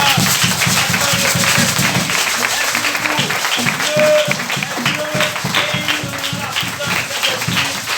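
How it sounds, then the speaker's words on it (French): A church congregation claps hard and fast in steady rhythm, loud and close, with singing voices and shouts carrying over the applause throughout. "Acclamons très fort le Seigneur"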